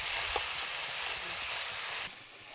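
Spice paste with a little water cooks down in hot oil for a katla fish curry with fresh ridge gourd, giving a steady, close hiss and sizzle that drops away sharply near the end.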